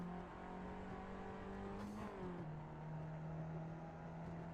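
A race car engine in a racing video game holds a steady droning pitch, with a brief rise and a shift in pitch near the middle, quiet and continuous throughout.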